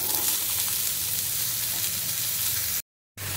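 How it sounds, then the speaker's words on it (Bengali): Bottle gourd frying with chopped onions in a pan, a continuous near hiss of oil that cuts off abruptly for a moment before resuming. "এবারে দিয়ে দেবো লাউটা।"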